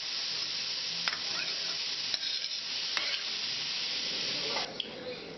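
Frozen vegetables sauté in a pan with a steady, close sizzle. Occasional sharp clicks and stirring scrapes come through, and there is no talking.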